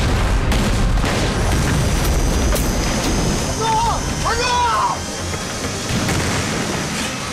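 Artillery bombardment in a war drama rumbles as continuous low booming and blasts, with a brief tonal whine partway through, forming a dense battle-scene soundscape.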